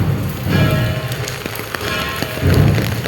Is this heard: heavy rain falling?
yes